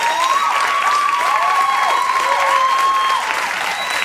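Studio audience applause on a late-night talk show, a loud, steady wash of clapping lasting the full four seconds, with whoops and cheers riding on top.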